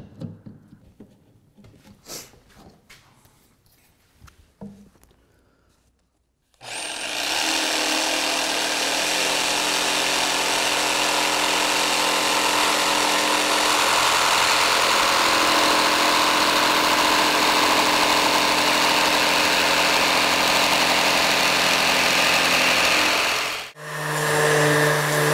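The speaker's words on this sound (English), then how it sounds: "We're gonna be using our jigsaw. I'm just gonna clamp this up here and cut out these legs." Small taps and clatter give way to a jigsaw cutting table legs from a clamped wooden slab, a loud, continuous buzzing whine lasting about seventeen seconds that stops abruptly, then resumes briefly.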